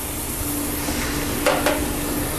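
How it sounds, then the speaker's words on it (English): Onions and celery sweating in bacon fat in a pan, a steady low sizzle with a couple of brief scraping stirs, no talking. "Mix those in with your delicious bacon and sweat them out"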